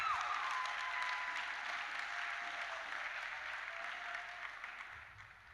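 A church congregation applauds during a worship seminar: continuous, dense clapping from many people that holds steady, then gradually thins and fades toward the end.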